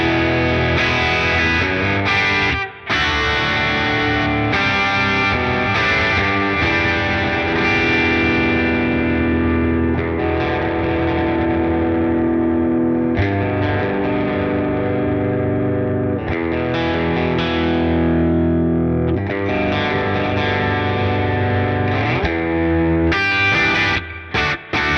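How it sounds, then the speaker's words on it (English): Harley Benton ST-20 electric guitar played through a medium clean tone, with strummed chords and picked notes ringing continuously for the whole stretch, with short breaks between phrases. "I think we should go and see what the guitar sounds like with a"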